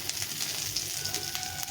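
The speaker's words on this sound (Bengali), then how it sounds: "ফোড়নটাকে একটু ভাজা ভাজা করে নিতে হবে।" Cumin seeds sizzle in hot mustard oil alongside a dried red chili and bay leaf, a close, continuous frying hiss with faint crackles and no talk.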